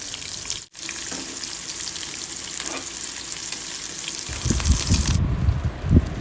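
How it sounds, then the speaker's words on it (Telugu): Onion, green chillies, caraway and bay leaves frying in hot oil, giving a steady close sizzle with occasional stirring clatter that gets louder and busier toward the end, no talk. "ఒక మీడియం సైజ్ ఉల్లిపాయ ఒక నాలుగు పచ్చిమిరపకాయలను వేసుకుని బాగా దోరగా వేయించుకోవాలి"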